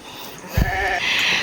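A goat bleats once, briefly and not far off, against steady outdoor background noise in a quiet rural setting.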